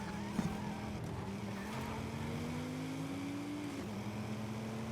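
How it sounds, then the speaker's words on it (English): A Porsche with a flat-six engine driving in the Forza Horizon racing game: a faint, steady engine drone whose pitch climbs slowly then drops at a gear change, with brief tire squeal. "This Porsche is okay, but it just doesn't sound right well with flat six."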